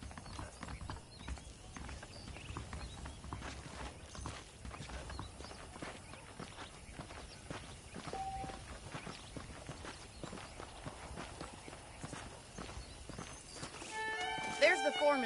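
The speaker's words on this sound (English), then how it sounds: "The horses are saddled up over here." Saddled horses in the Red Dead Redemption western game walk with steady clip-clop hoof steps, a brief whinny among them, under continuous talk and ambient game sound.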